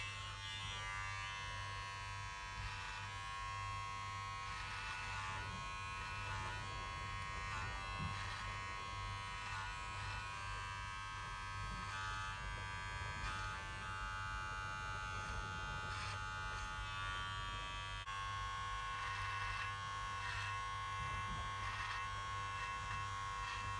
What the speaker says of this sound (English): Do be very gentle when you're doing the edges, because there's no guard on